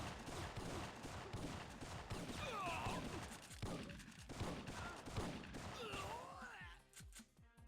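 Gunfire from a weapon in the Syphon Filter video game crackles in rapid bursts and scattered shots, with game effects and sweeping tones mixed in, fairly faint overall.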